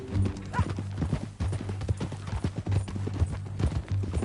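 Horse hooves pound in a steady galloping clip-clop in the video game Red Dead Redemption 2, loud and close, with occasional snorts and a brief whinny over a low game soundscape.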